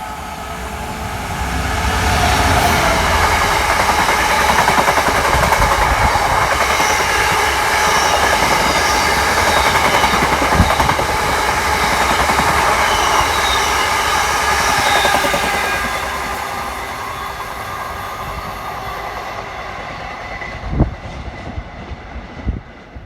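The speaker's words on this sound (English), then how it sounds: "This is a classic 66 HST goods train coming through Market Harborough." A Class 66 goods train rolls through Market Harborough station, a loud continuous rumble of wagons with rhythmic wheel clatter and faint squeals, fading out near the end.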